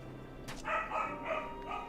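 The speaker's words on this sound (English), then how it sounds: "you can hear my dog barking." A pet dog barks indoors, several short, faint-to-moderate yips in quick succession heard slightly away from the microphone.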